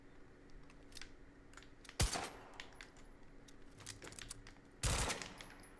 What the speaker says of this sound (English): There we go, burst fire.